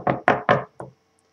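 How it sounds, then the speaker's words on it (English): Four sharp knocks on wood come close and clear. The first three are quick and evenly spaced, and a softer fourth follows after a short gap. The clip is otherwise quiet. "let's knock on wood"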